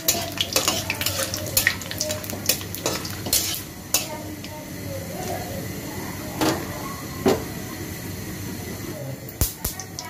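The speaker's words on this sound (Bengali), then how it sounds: "গোটা এলাচ, গোটা দারচিনি। এখন ভেজে নেব 2-1 মিনিট।" Whole cardamom pods, cinnamon and bay leaf frying in hot oil in a pan, a low sizzle broken by sharp metal clatters and scrapes of the spoon, up close, with a voice talking briefly.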